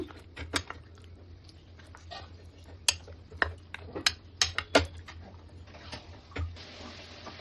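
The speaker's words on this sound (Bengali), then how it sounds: "দিয়ে আমি সব কিছু ভালো করে মিশিয়ে নেব। এই যে এবার ভালো করে মিশিয়ে নেব।" Marinated chicken pieces are mixed by hand with gram flour batter in a bowl, giving close, irregular wet clicks and soft squelching taps, with no talking.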